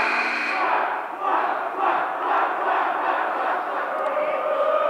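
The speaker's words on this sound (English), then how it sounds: "The student section has some sort of a cheer going." A high school student section chants a rhythmic cheer at a boys basketball game against West Mifflin, a crowd of voices pulsing in repeated beats, loud and reverberant in the gym.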